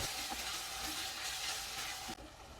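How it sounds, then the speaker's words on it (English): Ginger garlic paste with paya frying in a pan, a steady close sizzle with light stirring throughout that drops off abruptly near the end. "I added about 2 tablespoons of ginger garlic paste and cook until the raw smell"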